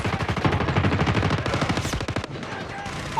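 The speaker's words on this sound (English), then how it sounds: "Hostile sentry gun in your AO" An enemy sentry gun in Call of Duty Mobile fires a rapid, loud automatic burst for about two seconds, then breaks off into quieter game sounds.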